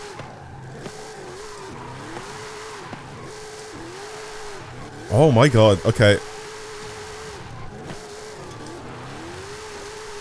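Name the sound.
car drifting in the video game Forza Horizon 5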